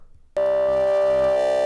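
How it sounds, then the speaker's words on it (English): Cowbell sample rendered as a synth wavetable for psytrance production, a steady harmonic tone that starts abruptly after a brief quiet moment and holds loud and even, nothing spoken over it. "the cowbell decomposed in many waves."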